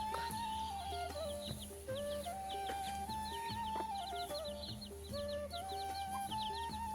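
Several chickens cluck and chirp steadily over a constant low hum in a village yard in the afternoon, with cows nearby, short repeated calls scattered throughout and no talking.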